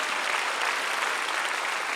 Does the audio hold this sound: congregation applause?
yes